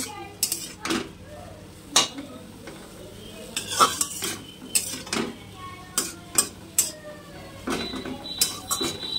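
Leafy greens frying in a pan after a tempering of black cumin, onion and green chilli, with repeated close utensil scrapes and clinks against the pan over a low sizzle, in a steady irregular rhythm with no talk.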